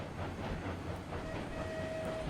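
A steam locomotive in RailRoads Online gives a quiet, thin, steady whistle tone above the constant rumble and clatter of the moving train.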